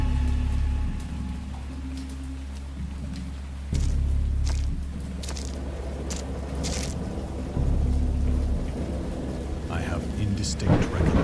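A thunderstorm sound effect plays behind a story reading: a dense, steady wash of rain with heavy low rumbling that swells in rolling waves of thunder, plus a few sharper cracks.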